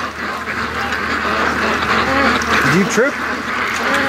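Muscovy ducks quack in a close, busy cluster outdoors near a swamp, a few sharper calls rising near the end, while someone briefly speaks over them.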